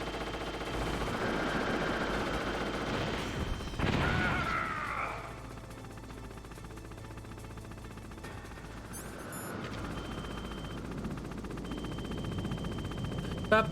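Gunfire from the Metal Gear Solid video game, with rapid bursts and sharp crashes over a busy game soundtrack, loudest in the first few seconds and then settling into a steadier background of shots and music.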